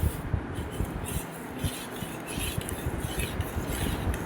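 A spoon stirs junnu powder into a bowl of raw, unboiled milk, with soft repeated scraping and faint clinks of metal against the dish, steady and close, with no voices.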